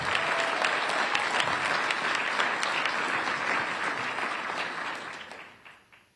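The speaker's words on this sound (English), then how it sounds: "We have a round of applause for Officer Anthony McGill." A crowd at a police community relations awards ceremony claps steadily for several seconds, loud and continuous at first, then the applause thins out and fades away.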